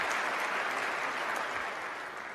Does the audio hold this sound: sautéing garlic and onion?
no